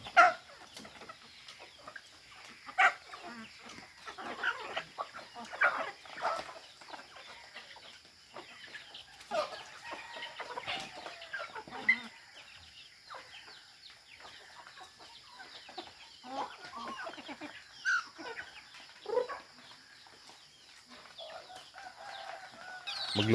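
Chickens cluck and squawk intermittently at a moderate distance, with scattered bird calls over a faint outdoor background.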